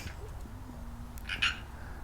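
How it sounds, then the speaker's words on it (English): Tree frogs croak outdoors on a drizzly day, a faint thin call followed by a brief louder burst, set against a soft steady background hum. "Hear the frogs out there, and tree frogs are everywhere out here."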